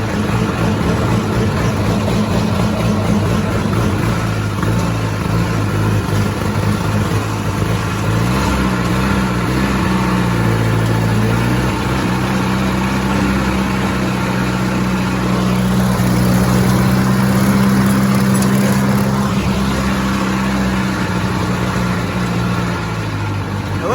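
Gas engine of a 1964 Ford 2000 tractor running steadily while mowing overgrown trails, with a low, continuous drone whose pitch shifts slightly under load.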